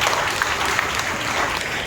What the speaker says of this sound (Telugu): చప్పట్లు కొట్టి మనం వారిని ఆహ్వానిస్తున్నాం